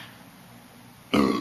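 A man burps after drinking an energy drink, one loud, sudden, rumbling burp that cuts in near the end after quiet room noise.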